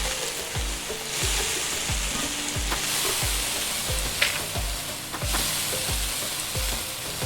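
Onions frying in a pan in the video game Venba: a steady, dense sizzle runs throughout, with a regular low thumping pulse beneath it.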